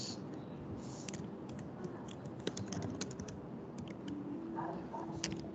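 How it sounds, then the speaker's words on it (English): Typing on a computer keyboard: irregular, close key clicks and taps in quick bursts, with a quiet room hum underneath. "Let me type."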